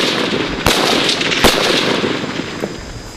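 Gunfire during a large joint US military exercise in Thailand: a few sharp, heavy reports a second or so apart ring out over a loud, continuous roar of outdoor noise and rumble.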